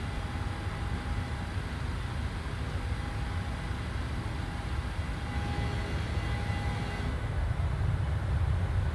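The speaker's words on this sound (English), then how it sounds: "we are flying in Boeing 737" A Boeing 737 cruises in Microsoft Flight Simulator on a Cape Town to Johannesburg flight, producing a steady low cabin engine drone with a faint high whine, constant and even throughout.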